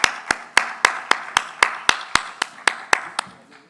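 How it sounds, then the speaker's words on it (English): Hands clap at a panel discussion on stage to welcome a panelist: a dozen sharp, evenly spaced claps, close and fairly loud, with no talking. "Put a huge round of applause for him"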